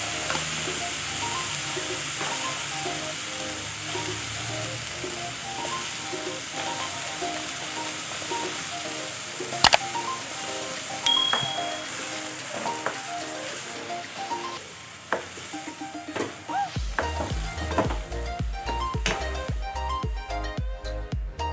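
Coconut milk goes into a pan of glutinous rice cooking for Kapampangan bringhe, giving a steady wash of hiss and soft sizzle, with faint tonal background sounds and low rhythmic thumps toward the end.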